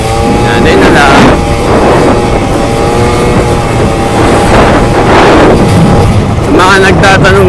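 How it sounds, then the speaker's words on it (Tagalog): A Honda Dio 50cc scooter engine drones while being ridden, a loud close buzzing with rising and falling revs, mixed with strong wind buffeting on the microphone and someone talking over it. "Mga nagtatanong guys, 50cc lang to, itong Dio ko."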